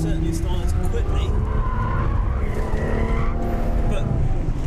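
A Ferrari F12 Berlinetta sliding on track with tyres squealing, the loud engine roar and rising screech running continuously under someone talking.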